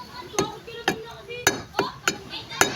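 Six sharp, close hammer blows ring out on a boat motor propeller, struck one at a time at a steady, slightly uneven pace.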